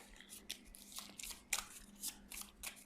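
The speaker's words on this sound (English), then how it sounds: "Give them a shuffle." Cards from the X-Men Marvel United board game, including master plan and threat cards, shuffled by hand in a series of quick riffling bursts with short pauses in between, close and fairly quiet.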